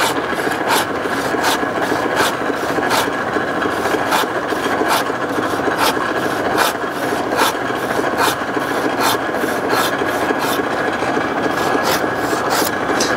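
A pruning saw cuts through a tree branch, making a loud, steady rasping back-and-forth rhythm of regular strokes, close up and continuous, with no talking.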